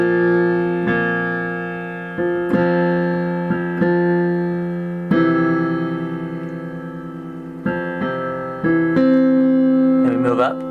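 A piano plays a song as sustained chords struck roughly every second or two, close and clear, ending in a brief higher run.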